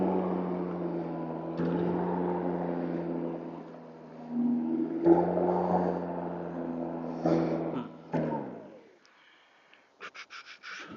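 A self-propelled lawn mower motor runs steadily close by, its hum shifting in pitch as the load changes, then cutting out near the end with a few short clicks.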